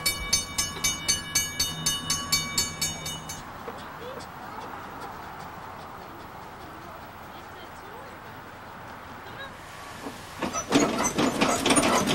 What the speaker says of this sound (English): locomotive is taken to the engine house.